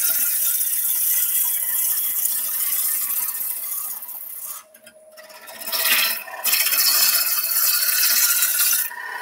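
Woodturning gouge roughing out a wood blank on a lathe running above 700 rpm, giving a steady, close, continuous shaving hiss that dips briefly midway and then resumes.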